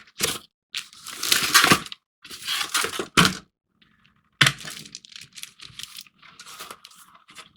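Plastic and cardboard packaging for a Playmates Star Trek Generations USS Enterprise NCC-1701-D battle-damage toy being torn and crinkled open in bursts of tearing and crackling, close by with short pauses.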